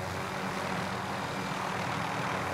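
A helicopter in Call of Duty: Modern Warfare roars in a loud, continuous rotor-and-engine drone, steady and close with no pauses or talk.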